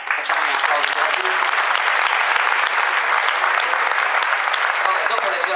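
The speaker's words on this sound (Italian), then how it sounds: "Facciamo un applauso per lui." Sustained applause from an audience at a live literary stage event, dense and even clapping that stays loud for the whole stretch with no talk over it.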